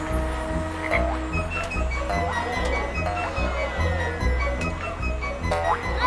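Cartoon frog croaking in repeated rhythmic pulses over a steady backing track, close and fairly loud, with no talk.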